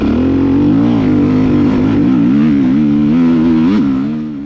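A Beta 390 dirt bike ridden hard, its engine droning loud and close with a steady growl that wavers as the throttle shifts, then briefly surges before easing off.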